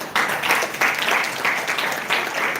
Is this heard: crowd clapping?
yes